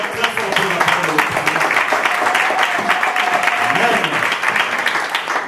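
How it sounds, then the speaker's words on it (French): A church congregation applauds loudly and steadily throughout, a dense sustained wash of clapping from a large crowd with a voice speaking over it. "Nous pouvons tous prendre place en acclamant très fort pour la parole de l'Éternel"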